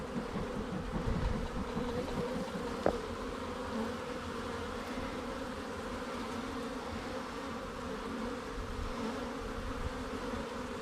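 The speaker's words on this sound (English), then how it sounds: "we'll start to drive the bees out of the box." A steady, close hum of many honeybees buzzing as smoke drives them from a nucleus box, continuous and even throughout with no voices.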